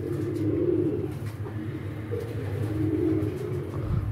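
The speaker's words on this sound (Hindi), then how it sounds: "सलारा टेडी कबूतर है माशाल्लाह।" A Salara Teddy pigeon cooing close by in a steady, throaty series of soft rolling coos that repeat with little pause, the only sound present.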